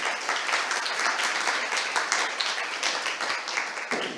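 An audience at a panel talk on artificial intelligence gives a round of applause, a dense, fairly close clapping with individual claps audible, steady throughout and thinning slightly at the end.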